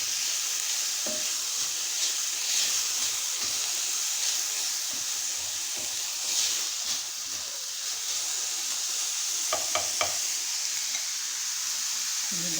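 Green beans sizzle and hiss steadily in a hot pan while being sautéed with salt before shrimp are added, with repeated scraping stirs and utensil clinks close by.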